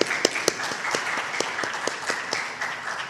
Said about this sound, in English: please give a round of applause for all the speakers